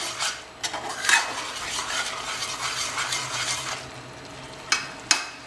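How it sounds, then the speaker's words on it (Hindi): Goat mutton ribs being fried and stirred in a pan, a close sizzling hiss under repeated scraping strokes, with a couple of sharp utensil knocks near the end and no speech. "अब इसे 10 से 15 मिनट के लिए हम भुनेंगे।"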